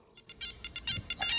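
A telephone ringtone: a quick run of bright electronic beeps in a rapid, steady rhythm, loud and close, with a faint low thud partway through.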